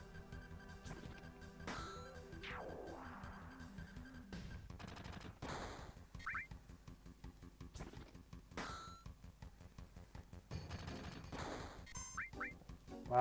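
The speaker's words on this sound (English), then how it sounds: "that machine gun is absolutely rubbish if it's doing 1 damage" Machine gun fire in the 1997 game Final Fantasy VII, rattling in rapid repeated bursts amid game effects, dings and music, at a moderate level.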